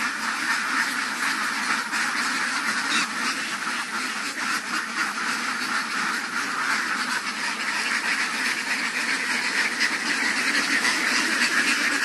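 Many ducks at a duck farm quack together in a dense, continuous chorus, loud and close, with overlapping calls and no pauses and no talk.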